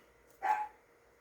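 A small dog gives a single short bark, one quick yap heard alone against quiet background.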